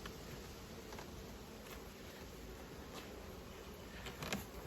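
Honey bees at a hive make a faint, steady buzzing drone with no voices, continuous and even throughout.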